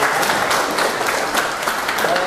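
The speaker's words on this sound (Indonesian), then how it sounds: "Aplaus lagi untuk Pak Dr." A school audience gives a speaker a dense, steady round of clapping that carries from start to finish at high volume.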